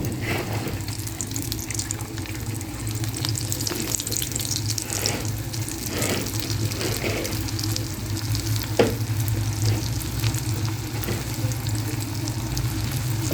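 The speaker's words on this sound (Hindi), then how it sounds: "अच्छी तरह से फ्राई होने देंगे इनको" Potato sticks frying in hot ghee, a continuous bubbling sizzle with occasional clinks and stirring sounds from close by, no talking.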